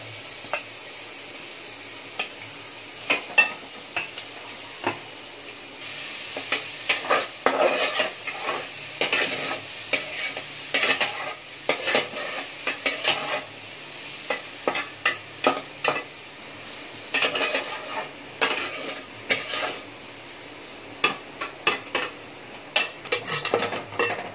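Green chilies fry in a pan for sabudana khichdi. A steady sizzle runs under repeated metal spoon scrapes and clinks against the pan, in irregular bursts throughout.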